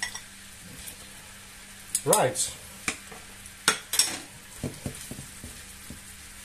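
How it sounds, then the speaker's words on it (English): Meatballs for a paella frying in a pan give a soft, low sizzle under scattered clinks and scrapes as they are turned, with a brief spoken word from a nearby cook. "I think it's better frying them"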